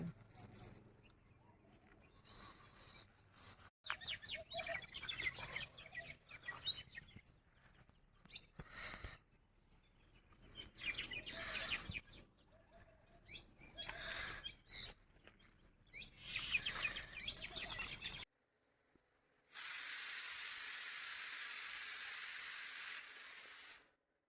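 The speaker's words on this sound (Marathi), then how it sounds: "हे जे पोपट आहेत ना, तर नेहमी खिडकीमध्ये येऊन सकाळी सकाळी आम्हाला उठवतात बरं का" Parrots chirp faintly at a house window in the morning, scattered tweets recurring against quiet room noise, ending with a burst of loud hissing spray.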